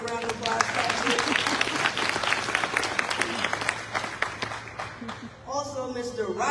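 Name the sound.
audience applause for Patrick Mongo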